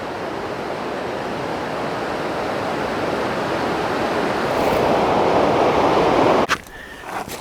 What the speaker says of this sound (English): right here, it is practically a waterfall.